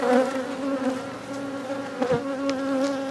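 Honeybees freshly moved from a nuc into a ten-frame hive buzz loudly and continuously close by, a dense agitated drone with a few individual bees zipping past.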